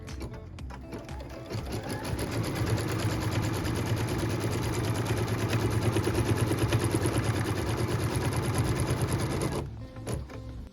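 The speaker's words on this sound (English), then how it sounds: "What we're stitching now is the tack down line for piece number 8." A sewing machine stitches a tack-down line on fabric for a maple leaf quilt block, its fast, even mechanical chatter running close and steady for about eight seconds before stopping.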